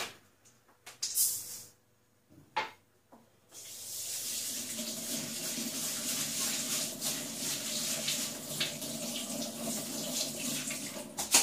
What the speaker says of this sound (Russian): Теперь промываем хорошенько наш рис.